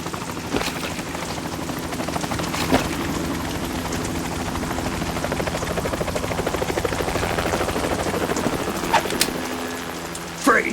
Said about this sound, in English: You will be on the helicopter out of here now.